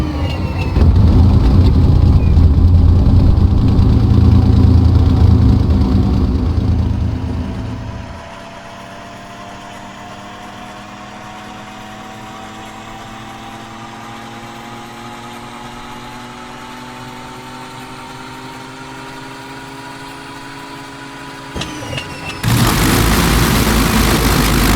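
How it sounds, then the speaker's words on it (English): A Daimler-Benz DB605 engine in a Bf 109G flight simulator starts up: a loud rumbling run gives way to a long, quieter rising whine, then the engine catches again with a sudden loud roar. "the startup sequence of that Daimler-Benz 605 is pretty epic"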